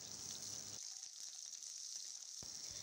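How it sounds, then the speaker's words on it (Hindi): Okra frying in hot oil in a kadhai, a continuous bright sizzle that holds steady throughout, close and fairly quiet with faint scraping stirs. "जब तेल गरम हो जाए तब हमें इसमें भिंडी को फ्राई कर लेना है।"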